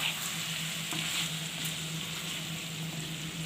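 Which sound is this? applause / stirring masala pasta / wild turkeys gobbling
stirring masala pasta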